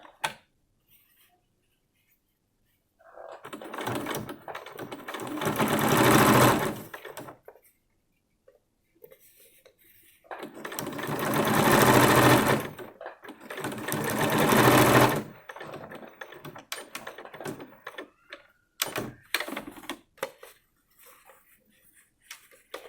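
A sewing machine stitches a fabric face mask with ties and a removable nose wire, running in two long, loud bursts of rapid whirring with short pauses and a brief final run, no speech.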